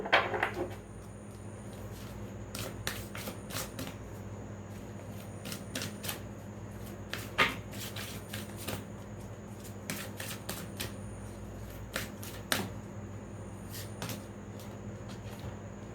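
Tarot cards are shuffled and drawn at close range, giving a long run of quick, crisp riffling clicks and slaps in irregular bursts against a quiet room.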